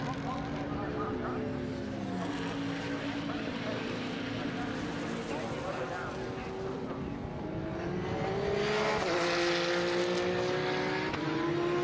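Challenge spec race cars lapping Snetterton during a 2022 British Endurance Championship race, their engines a steady, overlapping drone that swells into a higher whine near the end, heard beneath continuous commentary.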